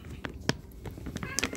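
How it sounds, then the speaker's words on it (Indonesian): Stray cat meowing several times in short, close calls, with a person talking intermittently around it. "Wah, warna kucing apa itu, Mong?"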